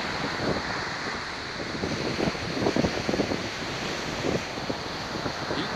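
Strong wind gusts blow steadily across the microphone at a fishing spot by the water, a constant broadband roar with rougher bursts and no talk.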